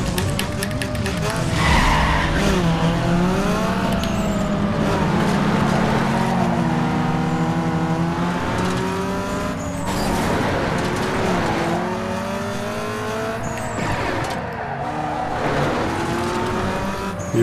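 Peugeot 206 GTi street racing in Need for Speed Underground 2: a loud, steady engine drone rises and falls through gear changes, with tyre squeal and skidding on corners, no talk.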